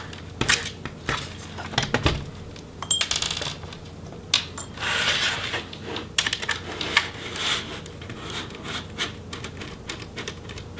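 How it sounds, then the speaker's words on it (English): Small Phillips head screws being backed out of the hinge on a Dell Precision 7510 laptop, giving sparse metallic clicks and ticks with light handling taps, close and fairly quiet, with no talking. "the hinge is also held on by the 2 outside Phillips head screws, so we'll just go ahead and remove those as well"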